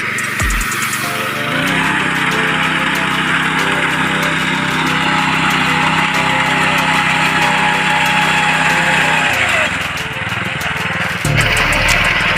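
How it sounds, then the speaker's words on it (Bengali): Rice harvesting machine working in a paddy field, its engine droning loudly and steadily for about ten seconds with a constant vibration, then the tone shifts and roughens near the end. "ধান কাটা মেশিন"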